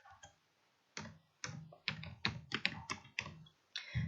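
Quiet keystrokes typing a folder name on a computer keyboard, a sparse then quickening run of about a dozen distinct clicks with short gaps between them.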